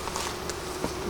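Honey bees buzz in a hive during an inspection, a dense, close, continuous droning hum with no speech.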